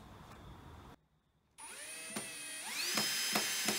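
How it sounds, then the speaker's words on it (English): A power drill drives screws into timber and plywood while building a woodturner's sawbuck, with whirring bursts that rise in pitch, a brief silent gap, then louder close runs ending in clicks. "So I'll go ahead here and start screwing all this together"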